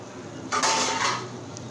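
A lid clatters onto a cooking pot of tomato masala, a short metallic clink and scrape over quiet kitchen background.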